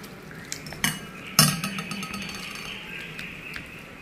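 Ramen noodles dropped into broth and seasoning for homemade shoyu ramen, with a few close clinks and knocks of utensils against a bowl or pot, one sharper clatter, then softer scraping and stirring.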